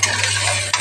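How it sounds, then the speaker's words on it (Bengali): Onion and garlic frying in hot oil with cumin, a brief close, steady sizzle with a light stirring scrape near the end over a low constant hum. "দেখো পেঁয়াজটা ভাজা ভাজা হয়েছে,"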